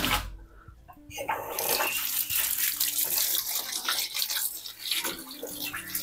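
A paper stencil used for art journal ink work is dropped into water, giving a brief splash and steady running-water wash sound close by, with no talk.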